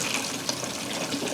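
Water is poured through a funnel into a bottle, giving a steady, close splashing rush that runs evenly without pause.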